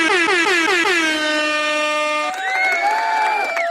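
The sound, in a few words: air horn sound effect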